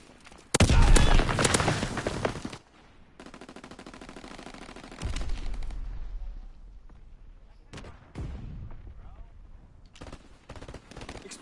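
Bursts of automatic gunfire in Call of Duty rattle loudly in rapid volleys, with separate shots and booms between quieter gaps; a voice speaks briefly.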